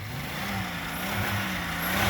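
A Buick Regal with a 3800 engine revs up, its motor droning steady and close with the pitch gradually rising and loudness swelling toward the end.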